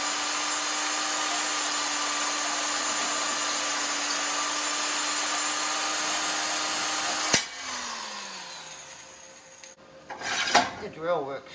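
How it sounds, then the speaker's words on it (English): An electric drill whirs steadily at close range while boring through metal on a logging winch's landing gear. The motor then cuts off and spins down, and a few scraping, clattering handling sounds follow. "The drill works a little better for that."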